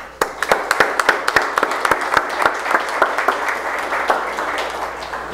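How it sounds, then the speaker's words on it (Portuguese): Council members applaud in a municipal chamber session, a small group producing sharp, distinct claps in a quick uneven rhythm, close and clear for several seconds within a reverberant room. "nós aplaudimos a estilo do nosso presidente"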